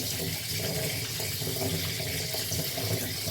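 Grated raw potato is washed in a strainer under a steady stream of running tap water, with a continuous broadband rush of splashing liquid and no speech.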